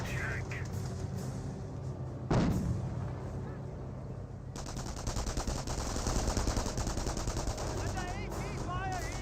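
Calliope rocket barrage in Company of Heroes, a sudden loud burst followed by a sustained rumbling roll of rocket impacts and gunfire, heard under a commentator's steady talk.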